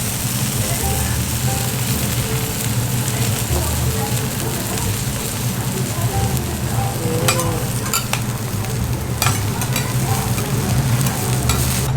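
Soba noodles and okonomiyaki sizzle loudly on a hot griddle in a Hiroshima restaurant while metal utensils clang and scrape in quick, irregular hits, with a busy background hum throughout.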